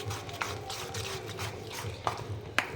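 Gram flour batter for alu vadi gets mixed and whisked in a bowl, wet squelching and stirring strokes in a soft continuous rhythm with a few clinks against the bowl, close and quiet.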